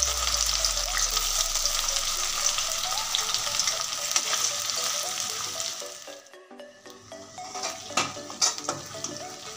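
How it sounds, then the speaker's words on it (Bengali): Chopped onions and bay leaves fry in hot oil with a loud, steady sizzle, which eases partway through before spoon stirring and clinks of the pan break in near the end. "তেলের মধ্যে এখন দিয়ে দিচ্ছি দুটো তেজপাতা, দিয়ে দিচ্ছি পেঁয়াজ কুচি।"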